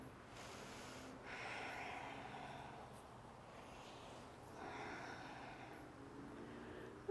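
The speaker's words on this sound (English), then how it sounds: "Take a cleansing breath or two." Two slow, deep breaths are drawn and released through the nose during a quiet yoga session, each a soft airy rush, close and faint.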